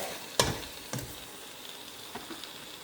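Vegan ramen ingredients cooking down in a pan, with a steady quiet sizzle broken by a few sharp stirring clacks near the start.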